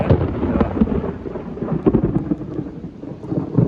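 Steady heavy rain with low rumbling thunder rolling underneath, continuous and fairly loud throughout.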